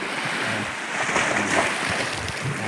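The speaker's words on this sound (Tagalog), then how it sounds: "Ayan, tumatalsik-talsik ang dagat." Sea waves splash against rock formations on a shore, a continuous rushing wash of surf with wind noise on the microphone.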